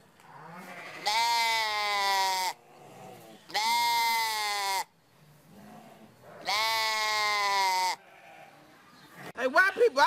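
Sheep bleat loudly and close by, three long drawn-out calls in a row with short pauses between them, then a brief burst of other sound at the end.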